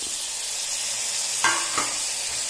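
Chopped tomatoes going into a sizzling crab curry masala, a loud steady frying hiss with two short sharp bursts as the pieces hit the pan.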